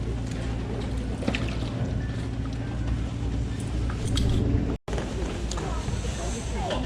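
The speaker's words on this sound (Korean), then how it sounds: "아, 바람도 불고 파도도 치고" Constant roaring wind and crashing sea waves buffet the microphone at a rainy fishing platform, loud and unbroken apart from one brief dropout.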